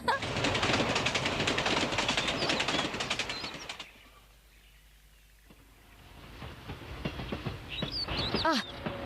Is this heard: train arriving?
yes